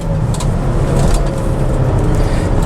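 Turbocharged engine of a manual 1998 Volvo S70 T5 with 300,000 miles at full throttle from about 2,000 RPM, a loud, steady low roar heard from inside the car, droning continuously.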